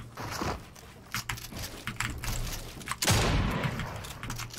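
Rapid gunfire bursts from a shooting battle in the video game Fortnite, with repeated close shots and a louder burst near the end, dense and continuous over game noise.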